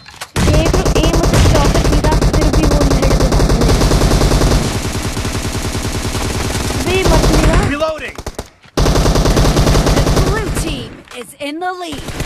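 Rapid automatic gunfire from PUBG Mobile, loud and close, in long sustained bursts with brief gaps and a few sharper single shots, ending in a short pause before another burst.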